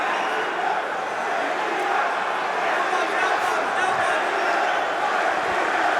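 A UFC arena crowd roaring and cheering during a welterweight title fight in round four, a dense, loud, sustained wall of voices from the whole clip with shouts rising out of it.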